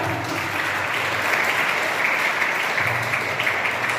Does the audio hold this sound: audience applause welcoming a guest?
yes